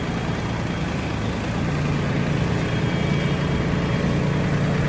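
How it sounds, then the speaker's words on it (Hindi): A Massey Ferguson tractor engine runs steadily nearby, a constant low rumbling drone with no breaks over the whole stretch. "तो देखो तो ट्रैक्टर स्टार्टिंग हो चुका है"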